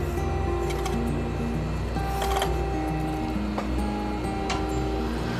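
An overlock sewing machine stitching pet clothing runs with a steady mechanical whirr and low rumble, continuous and close throughout.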